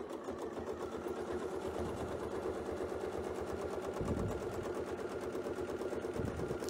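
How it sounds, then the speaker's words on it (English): Sewing machine stitching a heart template design, running in a steady continuous mechanical whir with a fast stitch rhythm, close and even throughout with brief dips. "Now I'm going to sew back up until I'm on this center line."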